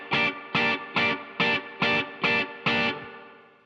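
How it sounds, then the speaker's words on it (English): An electric guitar plays seven punchy, evenly spaced staccato triad chords on the top three strings, with a distorted, effects-colored tone and a final chord left to ring out. "it starts off with these great punchy chords that sound like this."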